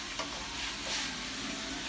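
Seafood gumbo ingredients frying and being stirred in a pan, giving a steady close sizzle with brief scraping stirs and no talk.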